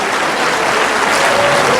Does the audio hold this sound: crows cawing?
no